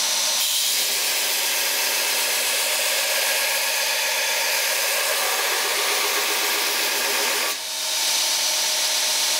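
A knife blade is ground to form a false edge or top clip, a loud, close, continuous abrasive whine from the grinder that dips briefly near the end before resuming, with no talk.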